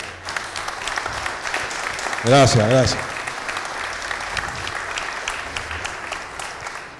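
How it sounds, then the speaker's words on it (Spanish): An audience at a ceremony breaks into sustained applause, a steady wash of clapping from many people for several seconds, briefly overlapped by a single spoken word from a man near the middle. "se merece un aplauso por parte de todos nosotros"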